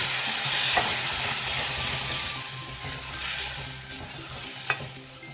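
Tempering for a moong dal soup sizzles and fries in a pan, with a continuous close crackle broken by scraping stirs and an occasional sharp clink of the spoon.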